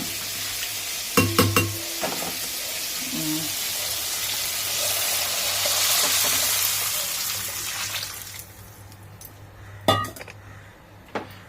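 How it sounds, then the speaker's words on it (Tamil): Tamarind water is poured into a hot pan of shark fish curry, with a broad hissing sizzle that swells and fades, plus occasional clinks of a utensil against the pot. "இப்போ நம்ம இந்த கரைச்சி வச்சுருக்க புளி தண்ணியை அதில் ஊற்றிட வேண்டியதான்"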